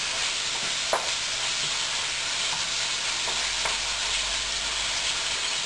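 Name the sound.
onions and beef stirred and sizzling in a stir-fry pan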